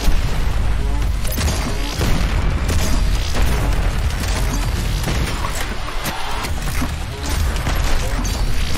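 A favorite shotgun blasting amid explosions during a boss fight in the video game Doom Eternal, a dense, loud, continuous barrage of booms and crashes with heavy low rumble throughout, no clear speech.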